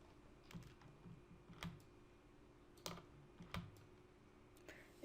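Keystrokes tap on a computer keyboard in small scattered bursts, a few quick clicks at a time with pauses between, close and fairly quiet against a faint steady hum.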